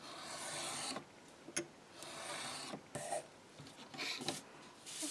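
Pink card being trimmed against a ruler with a paper trimmer, a series of soft scraping, rasping strokes separated by short pauses, quiet and close.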